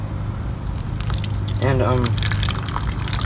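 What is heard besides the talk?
water being let into a container holding Japanese beetles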